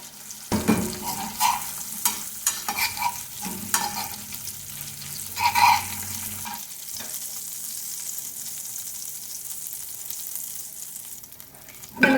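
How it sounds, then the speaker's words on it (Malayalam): Prawns fry in oil in a pan, a close steady sizzle broken by scraping stirs and clinks of a utensil over the first half, then a quieter ongoing fry with no talking. "ഇനി തിരിച്ചിട്ടും ഒരു മൂന്ന് മിനിറ്റ് വേവിച്ചെടുക്കാം"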